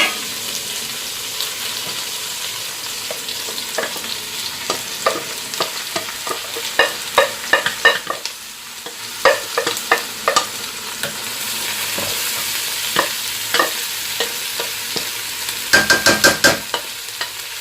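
Tomato, spices, water and lentils cook in a pot: a soft continuous sizzle with frequent scraping stirs and clinks, a brief gurgle of added water midway, fairly faint and close.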